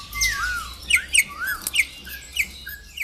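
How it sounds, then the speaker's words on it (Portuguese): A troupial, or currupião, sings inside an aviary, giving a series of clear, whistled upward-sliding notes with short breaks between them, close and fairly loud against a quiet low hum. "Mas o currupião canta e se exibe como um campeão do viveiro"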